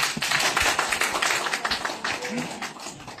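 An audience claps loudly at a motivational business talk, a brief burst of many hands in a hall with some murmuring voices mixed in.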